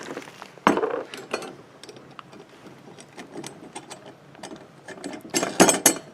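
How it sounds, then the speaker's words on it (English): Metal clinks and ratcheting turns as nuts are tightened on an Inverto satellite dish mount, close up, in irregular bursts of clatter with quieter pauses between. "Tighten the nuts."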